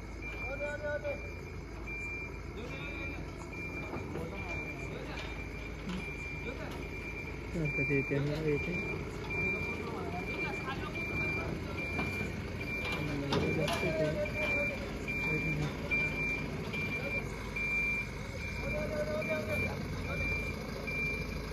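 Repeated electronic reversing beeps from a vehicle being parked at a workshop, steady and fairly loud through the whole stretch, with people talking over them and general yard noise.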